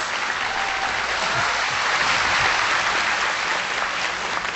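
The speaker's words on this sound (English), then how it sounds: "Let's express our heartfelt thanks and deep gratitude to Supreme Master Ching Hai with a big round of applause." A large audience gives a big round of applause at a book premiere event, a steady, loud, dense wash of clapping that holds evenly throughout with no talk.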